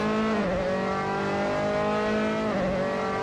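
A Dallara F317 open-wheel race car in a racing video game screams along at high revs, loud and close, with a steady harmonic engine whine dipping briefly on two quick downshifts before climbing again.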